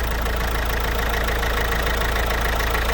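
A Citroën C4 1.6 HDi diesel engine with a faulty injector idles loudly and continuously up close, a dense rumbling drone with a slightly uneven, knocking texture.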